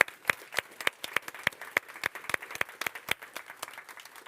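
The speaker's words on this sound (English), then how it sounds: "let's have one more round of applause for the group." Applause at a research conference on global lead exposure, heard as sparse, distinct hand claps in a loose rhythm, about three per second, fairly close and fading slightly toward the end.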